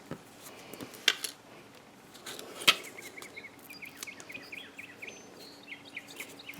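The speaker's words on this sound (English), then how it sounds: "If you hear the birds, I have the window open." Birds chirp and trill faintly outside an open craft room window, with scattered high tweets building toward the end and a couple of soft clicks nearby.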